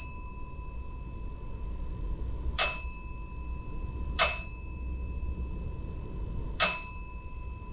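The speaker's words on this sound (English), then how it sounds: "And yet, the bell continues to chime." A paranormal dead bell device in an unpowered area of a building gives three sharp, bright dings at irregular intervals, each fading quickly over a steady electronic hum and low background rumble.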